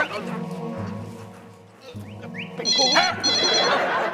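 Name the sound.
telephone ringing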